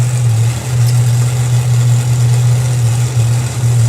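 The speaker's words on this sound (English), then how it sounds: "So Dave Smith's going to fire up." A loud, deep drag racing car engine rumbles steadily nearby at idle after starting up at a drag strip, its low throbbing tone holding with slight dips, no voices present.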